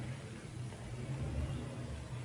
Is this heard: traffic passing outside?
yes